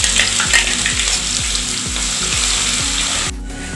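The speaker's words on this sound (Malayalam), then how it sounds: "കടുക് പൊട്ടി കഴിയുമ്പോൾ നമുക്ക് ക്രഷ് ചെയ്ത് വെച്ച മുളകും ഇഞ്ചിയും വെളുത്തുള്ളിയുടെ കൂട്ട് ഇട്ട്" Crushed green chili, ginger and garlic hit hot oil with mustard seeds for a fish pickle, giving a loud, steady sizzle with rhythmic scraping stirs, then the frying drops slightly quieter near the end.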